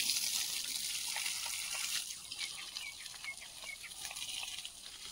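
Water poured over building materials to soak them, a steady hiss-like splash with faint dripping at close range, holding level before trickling off unevenly toward the end, no voices.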